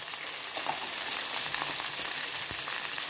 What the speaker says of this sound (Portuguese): E tem um peixinho fritando ali, um tambaqui.